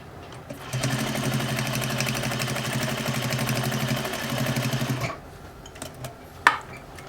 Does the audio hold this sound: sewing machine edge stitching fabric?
yes